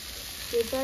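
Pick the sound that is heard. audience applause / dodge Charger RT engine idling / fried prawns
fried prawns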